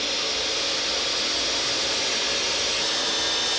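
A power saw cuts through a wooden board, giving a loud, continuous, hissing whir throughout the short stretch.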